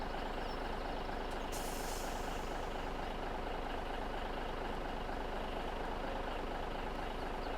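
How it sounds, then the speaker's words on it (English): Tipper truck with air brakes in Farming Simulator 17, its engine rumbling loud and steady throughout, with a brief high hiss burst near the start like an air brake release. "This is our little tipper truck."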